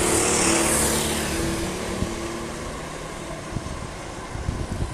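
A Yamaha R6 race motorcycle laps the Monza circuit, its engine noise fading from loud to a distant drone as it passes under a gantry, with wind-like rushing throughout.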